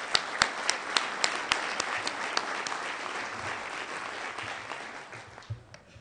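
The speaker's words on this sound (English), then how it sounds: "I'd like to give the managing director a round of applause" Applause from a crowd, with several sharp claps standing out early on, continuing steadily and then gradually thinning and fading toward the end.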